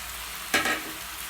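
Roasted, cut bread pieces tossed into a chilli sauce in a pan, with a constant faint sizzle and one short burst of louder frying and stirring as they go in.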